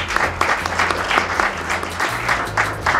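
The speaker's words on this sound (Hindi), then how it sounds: "एक बार हिंदी के लिए जोरदार ताली।" An audience claps loudly and steadily for Hindi at a Hindi Diwas celebration in Taipei, a close, continuous round of applause with no talking over it.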